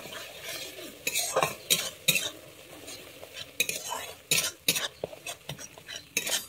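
A spoon stirs a cashew and melon seed paste with tomato in a pan for a Bengali potol korma, giving repeated scraping clinks in bursts over a soft sizzle.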